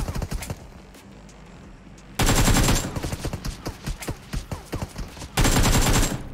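Bursts of automatic gunfire from the mobile battle-royale game PUBG Mobile, with rapid rattling volleys between loud sustained stretches of fire, close and dense throughout.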